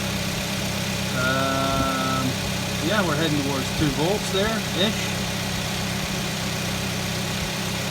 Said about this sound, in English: I don't want to have to talk over the engine running